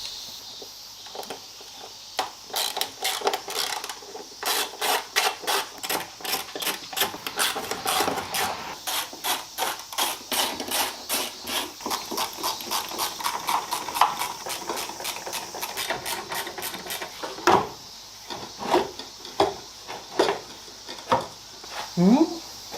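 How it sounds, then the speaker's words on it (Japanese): Wiper linkage being unbolted and pulled from the cowl of a Mazda RX-7 FD3S during a full strip-down restoration: a steady run of close, sharp metallic clicks and clanks, with a few louder knocks toward the end. "あとワイパーリンクも外していきます"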